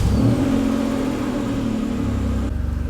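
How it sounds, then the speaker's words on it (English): An old car engine that has sat unused for years catches and revs, a loud close roar that settles into a steady run, then drops to a lower pulsing idle at the end. "This old girl's gonna fire right up."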